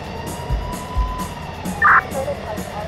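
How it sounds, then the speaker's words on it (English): A toy police car siren sounds as a short electronic wail amid playful background noise in a children's play scene. "Let me put on my police siren."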